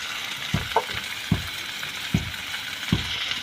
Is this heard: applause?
no